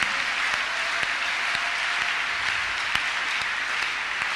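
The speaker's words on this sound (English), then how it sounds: "Let's clap our hands unto God of the choosing." A church congregation claps together through a Thursday counselling and deliverance service. The applause is dense and sustained, with fairly even loudness, and no voice stands out above it.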